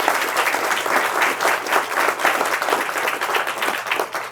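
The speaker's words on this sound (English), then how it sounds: "Round of applause," Sustained audience applause at a Forsyth County Library event for the sponsors, many hands clapping steadily and evenly throughout with no one speaking.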